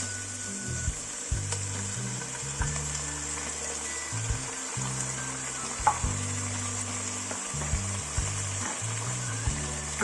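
Sardines sizzle with bottle gourd in a frying pan, a steady hiss under repeated scraping and stirring of a utensil against the pan, with a hum running beneath.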